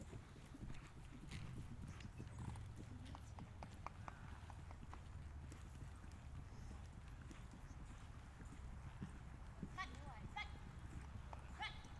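Horse hooves clip-clop over arena ground during a riding lesson, a faint, irregular thudding pattern under steady background noise, with people talking at times.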